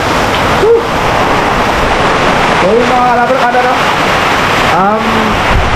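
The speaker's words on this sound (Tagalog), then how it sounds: "Napakalakas ng ulan." Heavy typhoon rain and gusting wind roar steadily as someone speaks briefly in Filipino over the noise.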